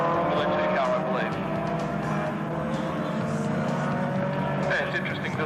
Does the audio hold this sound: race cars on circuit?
yes